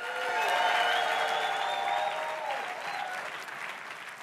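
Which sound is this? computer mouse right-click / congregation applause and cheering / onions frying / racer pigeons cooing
congregation applause and cheering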